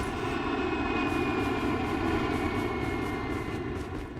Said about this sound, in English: I don't know how to fly that plane.